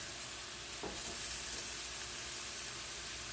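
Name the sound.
mixed vegetables frying in salmon oil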